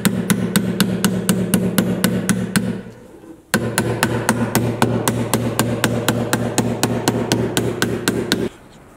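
Rusted sheet metal on a Jeep Cherokee unibody is hammered into shape with rapid, evenly spaced, ringing blows in two close, loud runs separated by a short pause near three seconds.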